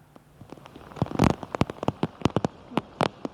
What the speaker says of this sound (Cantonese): 雨勢咧就比頭先咧我哋嗰度傾偈嘅時候咧再大咗一啲啊